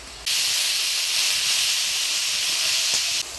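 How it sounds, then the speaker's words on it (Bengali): Grass pea greens go into a hot pan with dried chili, bay leaf, whole cumin, ginger and spice paste, setting off a loud, steady steam hiss and sizzle that starts abruptly and holds for about three seconds, close by. "দিয়ে দেবো খেসারি শাক"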